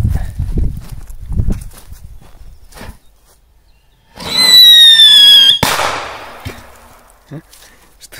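A Cobra firecracker lets out a loud, rising-then-falling whistle for about a second, then bursts with a sharp bang, followed by quieter crackles and pops; earlier, faint rustling.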